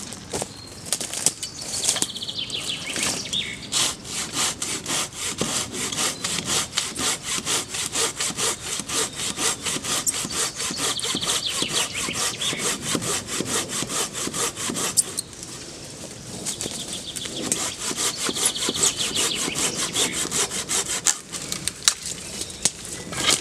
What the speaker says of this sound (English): to get firewood is to cut it down with a saw